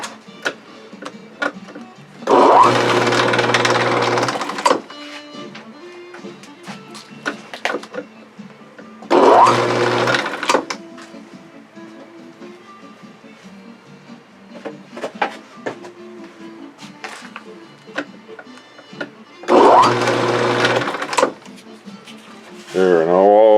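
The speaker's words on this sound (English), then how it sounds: "center the cap nicely on the drill press, for example, and drill a hole" A drill press bores holes through plastic juice bottle caps in three separate loud, whirring bursts of a couple of seconds each, with quieter handling clicks and some talking between them.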